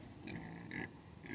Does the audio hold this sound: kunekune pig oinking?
yes